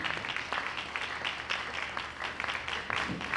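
An audience at a university College of Education conference applauds the keynote speaker, with many hands clapping in a continuous, moderately loud wash and no voices over it.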